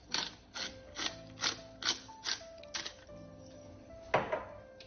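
A pepper mill grinds black pepper into a dish being seasoned with a series of about nine quiet, close, crunchy ratcheting twists in an uneven rhythm; no one speaks.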